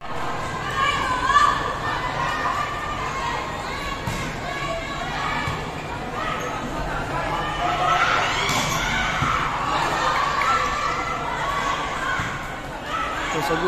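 Spectators at an inter-barangay volleyball match in Sibulan keep up a steady roar of cheering and shouting across the whole stretch, with scattered thumps from play under the crowd noise.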